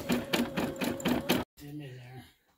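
Brother embroidery machine stitching away with a rapid, loud rhythmic mechanical chatter and hum, then stopping abruptly, followed by a brief faint whir and soft tones as it settles.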